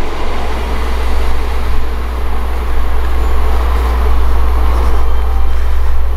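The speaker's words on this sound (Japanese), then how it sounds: "さあ小玉号最終電車も行きました。" The last Kodama Shinkansen of the night pulls out of Maibara station with a loud, steady rumble and deep low hum that holds throughout with no letup.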